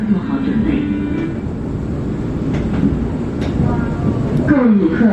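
A monorail train in Wuhan carries riders, with a steady rumbling rolling drone and faint whining tones inside the carriage while people talk over it.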